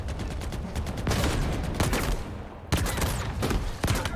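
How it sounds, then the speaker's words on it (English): Rapid bursts of gunfire from an Xbox game showcase trailer in a Halo-like shooter, loud layered volleys and sharp single cracks over a dense battle bed, with a brief lull before the firing resumes. "some of the gunshot noises sound like the ones from Halo 5."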